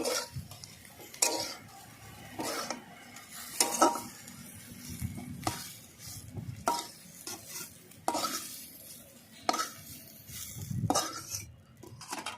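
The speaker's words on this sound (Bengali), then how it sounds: "ভেজে নিয়েছি দেখো এবার তুলে নিচ্ছি" Fried soybean chunks being stirred and scooped out of a pan, with repeated scraping and clinking of a utensil against metal over a soft background sizzle, in irregular bursts of strokes.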